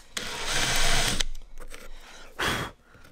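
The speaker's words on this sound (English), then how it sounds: "And then countersink it." A drill countersinking a pilot hole in wood, a beginner woodworking job: a loud sustained whirring burst over about a second, then quieter scraping, then a second short high-pitched whine near the end.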